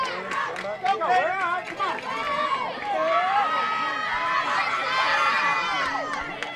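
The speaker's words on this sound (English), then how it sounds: "You're hearing a lot coming from that Daviess County dugout. They are loud, trying to cheer on their teammate Hamilton," High school softball players yelling from the Daviess County dugout at a regional championship game, a continuous mass of shouting and chanting voices with a commentator talking over it.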